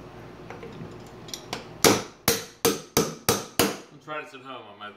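A series of six loud hammer blows on a wooden crate, sharp evenly spaced strikes with ringing decay, preceded by a few lighter taps and followed by scraping and talk.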